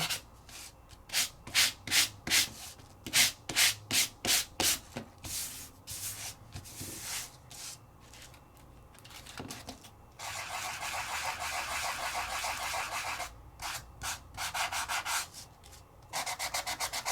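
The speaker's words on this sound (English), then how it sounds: "Come in here and sand where I want to sand it a little bit more." Sandpaper rubs over embossed paper to bring out a 3D embossing-folder design, first in quick, rhythmic, loud back-and-forth strokes, then in longer continuous scrubbing passes that are close and steady, with no talk.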